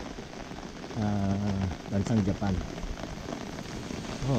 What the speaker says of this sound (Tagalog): Ulan init ito, ulan init.